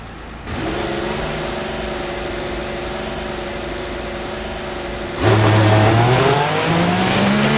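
A Formula 1 race car in the F1 2014 video game pulls out onto the track, its engine droning steadily and close, then surging louder with a rising, revving pitch near the end.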